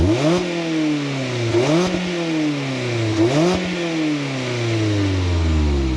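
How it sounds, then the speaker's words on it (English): A 2024 Mazda MX-5 engine revs hard three times in a row through its dual exhausts, each roar climbing then dropping, before settling into a rising, throaty idle drone. "you get two real dual exhausts, which sound like this."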